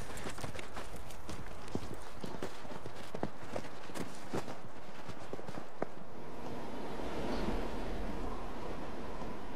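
Horse hooves clip-clop in a steady walking rhythm for about six seconds, fairly close and distinct, then give way to a softer rushing background.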